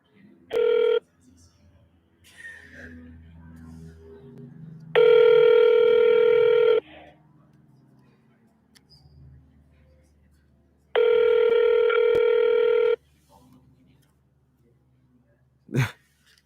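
Telephone call placed to a USA number, with a short beep followed by two long, loud electronic ringback tones separated by quiet gaps, plus faint background rustling.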